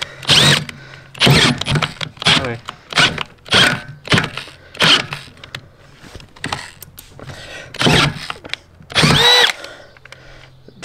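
An 18-volt cordless drill whirs in repeated short bursts, loud and close, with brief pauses between trigger pulls during a repair on an Audi; a voice speaks briefly between runs.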